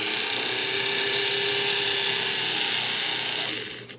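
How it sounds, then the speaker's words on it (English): Jeweler's burr cutting into a diamond earring setting, a high steady whine that holds for several seconds close up before trailing off at the end, with no talking over it. "I'm crimping it pretty hard, and here we go with our burr."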